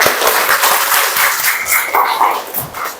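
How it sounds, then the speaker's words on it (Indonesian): Classroom audience clapping after a group presentation, a fairly close, uneven burst of hand claps that rises and falls. "Tepuk tangan dulu."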